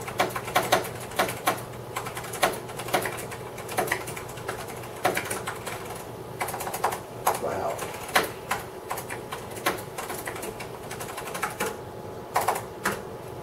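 Keys clack on an Apple Power Macintosh 6500 keyboard in quick, irregular bursts of close, crisp taps, with short pauses between runs of typing.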